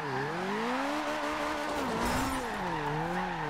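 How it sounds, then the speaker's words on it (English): A Ford RS200 drifting on a wet road in Forza Horizon 2, its tires squealing in a steady wavering skid over the engine drone, close and continuous for several seconds. "Actually going to drift around"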